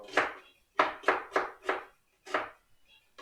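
Onions are chopped with a knife on a board: six crisp, close strikes come in an uneven rhythm with short pauses between them, and no other sounds are present.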